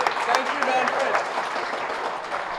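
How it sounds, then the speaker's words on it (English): An audience at a live podcast recording in a gaming lounge claps steadily for a few seconds, a dense, even patter of many hands. "can we get a round of applause for Caprica Gaming Lounge for letting us?"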